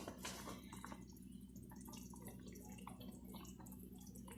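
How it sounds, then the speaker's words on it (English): Cooking oil poured into a pot of mopani worms gives close wet dripping and trickling under a constant low background hum, with no talk. "Now I'm adding my cooking oil."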